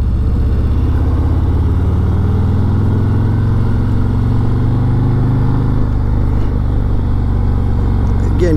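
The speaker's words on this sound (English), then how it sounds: "I'm going to downshift into second gear" Motorcycle engine downshifting into second gear for a low-speed curve on a road, a loud, steady droning engine note close by with wind rush, a slight pitch shift near the end.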